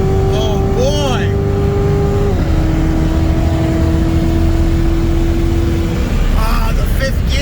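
A 2020 Audi RS3 with bolt-ons on E85 and a 2017 C7 Corvette Z06 with an intake race from a roll, heard from inside the car as a loud, sustained engine roar climbing through gears with one shift, while voices speak briefly over it.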